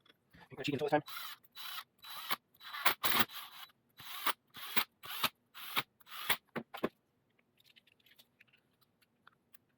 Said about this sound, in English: Now this is just a little Allen set here, so I'm just using my wrist